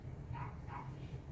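A small dog next door gives two short, yipping barks close together, moderately near and fairly soft, over a steady low background hum.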